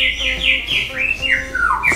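A magpie robin gives a rapid series of loud, close whistled and squawking notes, sliding in pitch, with no talking.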